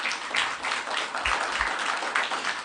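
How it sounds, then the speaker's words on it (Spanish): Congregation applauding during a Spanish-language church sermon: a steady wash of clapping from many hands, moderately loud and sustained throughout, with no voice over it. "Dale un aplauso al Señor por eso"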